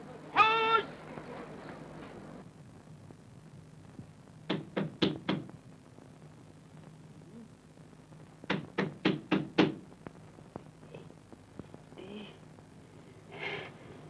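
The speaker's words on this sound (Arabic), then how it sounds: "قوم افتح الباب يا راجل بيخبط" Someone raps repeatedly on a door in two loud bursts of four or five quick knocks, separated by a pause, with faint voices and other noises in between.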